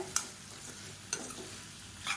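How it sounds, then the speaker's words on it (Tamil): Vegetables for idli sambar sautéing and being stirred in a hot pan, a soft steady sizzle broken by a few sharp scrapes of the spoon, close and fairly quiet with no talk. "இப்போ காய்கறி எல்லாமே நல்லா வதக்கியாச்சு."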